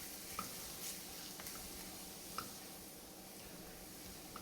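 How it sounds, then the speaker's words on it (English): A spatula scraping the bottom of a pan where mushrooms sizzle, a faint continuous frying hiss with a few light taps and scrapes, with no talking. "I'm basically scrubbing a little bit on the bottom."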